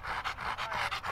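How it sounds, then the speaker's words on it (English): Quick rhythmic panting from an iguana-hunting dog resting after a removal job outdoors, close and steady, about six breaths in just over a second, with no voices. "That silly dog."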